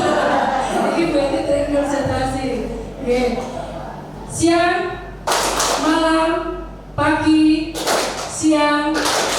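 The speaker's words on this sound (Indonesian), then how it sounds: "Tepuk tangan buat kita semua" An audience in a school hall claps in a few bursts of applause that overlap with a speaker's voice.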